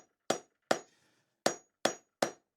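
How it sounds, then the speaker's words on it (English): A hammer strikes hot steel five times while forging a short taper on the struck end of a hot chisel. The blows are crisp, close and ringing, spaced unevenly with quiet gaps between them. "For the struck end, we just want to forge in a short taper on the end, only about 1 inch long."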